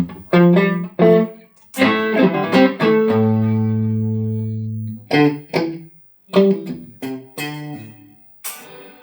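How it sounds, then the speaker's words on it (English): Electric guitar notes and a sustained chord ring out through a Nucleo room reverb pedal with a roomy, natural reverb tail, played in short phrases with gaps between. "a great sounding room reverb for your everyday reverb needs"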